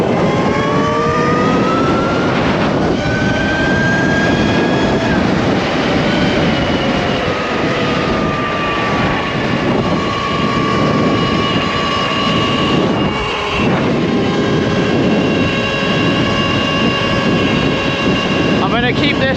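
A Talaria electric bike rides at medium to high speed, its motor whine rising and falling in pitch over heavy rushing wind noise, loud and continuous throughout.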